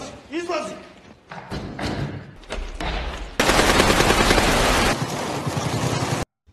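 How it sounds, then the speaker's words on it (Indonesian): Soldiers' gunfire in a film scene set during the 1995 Bosnian war: heavy thuds and shots give way to a dense, loud sustained burst of rapid automatic fire that cuts off abruptly. "sesaat kemudian bunyi tembakan tentara terdengar"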